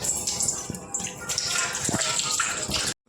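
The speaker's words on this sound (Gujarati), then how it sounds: "અત્યારે આપણે આગળના ભાગમાં પાણી ચાલુ કર્યું છે." Water gushes steadily from a tap at a work site, a continuous bright splashing rush with a few soft knocks, cutting off abruptly at the end.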